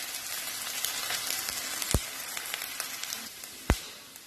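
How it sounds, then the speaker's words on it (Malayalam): Chopped ginger sizzles steadily in hot oil in a pan, a close, continuous frying hiss with two sharp clicks of a utensil against the pan. "നല്ല രീതിയിൽ ഇഞ്ചി വഴറ്റിയെടുക്കാം."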